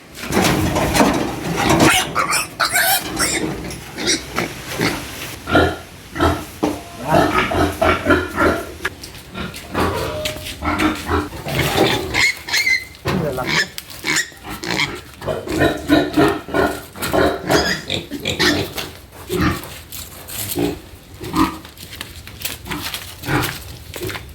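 Five piglets of about 15 to 20 kilos each, bought for lechon and being put into a pen, squeal and grunt loudly and almost without pause, with scuffling and clanking among the shrill cries.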